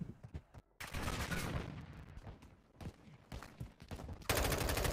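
Warzone Mobile gunfire sounds in bursts: a few sharp shots open, then sustained automatic fire rattles on with uneven volleys, and a loud heavy burst comes near the end.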